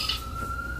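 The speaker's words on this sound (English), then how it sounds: "That's an ambulance." An ambulance siren outside an apartment building holds one steady high wail, moderately loud over a low rumble of traffic, with no talking.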